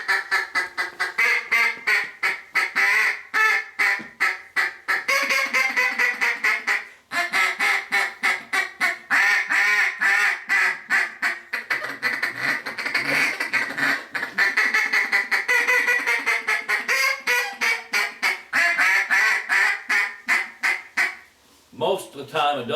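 A one-handed duck call, a double reed call, blown in a steady series of loud, raspy quacks and chatter that fills the whole stretch, with brief pauses between bursts.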